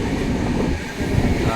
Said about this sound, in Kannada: ಟ್ರೈನ್ ಮೂಲಕ ಪ್ರವಾಸ ಕೈಗೊಂಡಿದ್ದೇನೆ